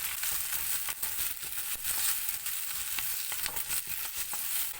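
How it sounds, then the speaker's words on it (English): Chopped onion and fresh curry leaves sauté in hot oil, a close, even crackle and hiss that stays steady, with light stirring scrapes now and then and no talking. "chopped 1 onion, fresh curry leaves, saute in the oil for at least 3 minutes."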